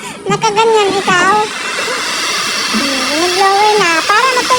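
A blower dryer whirs steadily as it dries a pet dog's fur after a bath, loud and continuous, while voices talk and exclaim over it at the start and end.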